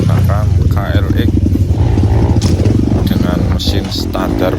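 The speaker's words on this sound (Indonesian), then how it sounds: "perjalanan kali ini saya menggunakan KLX" A Kawasaki KLX trail motorcycle with a standard engine rides a hilly dirt track, its engine note loud and steady with some clatter, while a rider talks over it.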